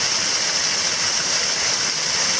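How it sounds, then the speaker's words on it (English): Water at Hidden Falls in Nerstrand Big Woods State Park splashing onto rock, a close, steady, full-bodied rush with no break across the short stretch. "the way the water is splashing on this rock down here"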